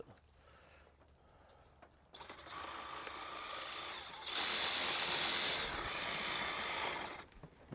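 A cordless ratchet running on Dewalt batteries loosens a 12 mm bolt on automotive work, its motor whirring loud and steady with ratcheting clicks for several seconds after quiet handling, then stopping.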